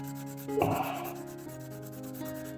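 Sanding on a small plastic part of a scale-model monster truck built for the Gaslands tabletop game, a brief scratchy rubbing burst near the middle over a steady low hum, up close with no voices.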